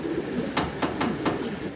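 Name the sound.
Lahori pigeons cooing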